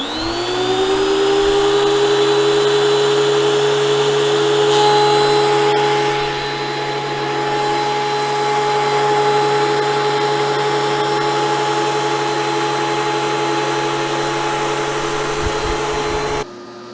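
A WEN 6552T 13-inch thickness planer spins up with a loud, steady motor whine and keeps droning while it planes a softwood 2x4. Near the end the tone changes briefly, then the sound cuts off abruptly.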